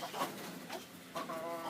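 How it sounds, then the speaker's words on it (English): Chicken clucking in short, agitated bursts while a small hen is chased into a corner and caught, close by with rustling movement between calls. "you gotta go catch chicken"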